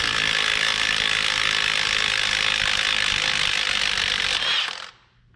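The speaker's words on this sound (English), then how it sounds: "we'd give it a try on busting these final drive bolts loose" An impact or ratchet tool with a 24 millimeter socket rattles loudly and continuously to bust loose the final drive bolts on a John Deere 120 in a workshop, then stops abruptly near the end.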